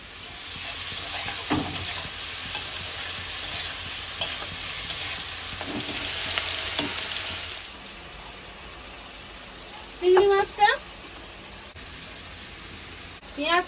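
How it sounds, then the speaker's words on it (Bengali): Crushed garlic, grated ginger, chopped onion and split green chillies frying in oil in a kadai, a loud steady sizzle with stirring knocks that drops away, followed by a few brief sounds. "তেলের মধ্যে দিচ্ছি ফেঁদো করা রসুন আদা কোরা পেঁয়াজ কুচি আর চেরা কাঁচা লঙ্কা"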